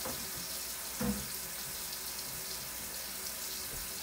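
Water runs steadily from a kitchen tap during washing up, a constant close hiss of flow with a brief clunk early on and no talking.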